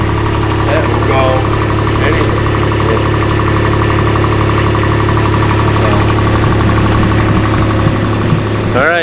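A UTV used for gathering maple sap on a farm idles loudly nearby with a steady, slightly knocking engine rumble, and faint squeaks and clatter come through over it.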